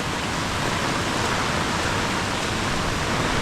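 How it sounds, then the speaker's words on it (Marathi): Heavy monsoon rain pours steadily in Khed, Ratnagiri in the Konkan, a dense, unbroken hiss that stays loud and even throughout with no voices. "असाच एवढ्या जोरात कोकणात पाऊस सुरू आहे"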